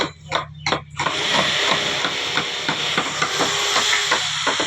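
Hand carving of wooden furniture with a hammer and chisel, a run of steady, regular taps over a loud continuous hiss in a busy workshop, with a few sharper knocks at the start.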